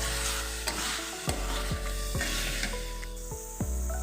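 Fried potatoes and salt being stirred in a hot pan for a potato-based curry dish, giving a steady close sizzle with repeated scraping strokes of a spatula against the pan, no talking.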